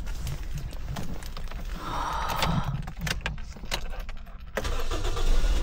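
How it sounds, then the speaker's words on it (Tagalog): A car engine starting in a home driveway in New Zealand, a brief cranking followed by the motor catching and settling into a steady idle that grows louder near the end, with no one speaking. "paandarin muna natin yung makina"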